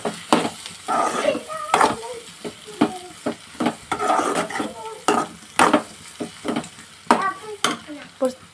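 Food seasoned with chili powder frying in a pan while being stirred, with steady sizzling broken by repeated scraping strokes of the spoon at an irregular rhythm, close and fairly loud, no talking.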